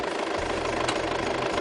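A vehicle engine idles in cold air, a steady low rumble with a faint rhythmic knock running evenly and fairly loud close by, with no talking.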